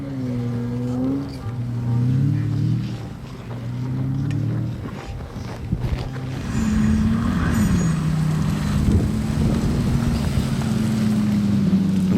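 A Pagani supercar drifts on snow, its engine loud and close, revving in rising and falling surges that turn into a sustained, strained roar in the second half. No talking.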